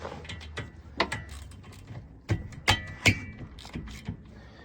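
A wrench ratchets and clicks on the 10 mm caliper bolts of a 2016 Jeep Cherokee's rear brakes. Close metallic turning sounds come in bursts, with several sharp cracks as the bolts break loose.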